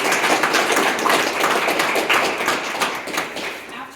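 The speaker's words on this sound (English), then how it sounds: "if we could give her a round of applause" Audience applause at a ribbon-cutting ceremony for a storage business, a dense steady patter of many hands clapping for several seconds, fairly close and loud with some voices mixed in.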